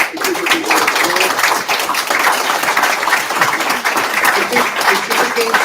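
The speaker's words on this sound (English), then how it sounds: "So let's give Patricia a applause." An audience applauds for Patricia Royal at a Providence school board meeting, a steady wash of clapping lasting several seconds.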